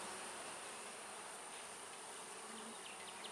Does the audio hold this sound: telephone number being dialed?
no